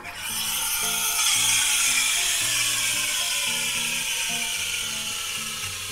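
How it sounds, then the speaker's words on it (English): Espresso machine steam wand frothing milk in a jug for a latte, a continuous airy hiss and rumble with rough, shifting undertones, steady and close throughout. "we're going to start off by pressing the cappuccino button to add some air"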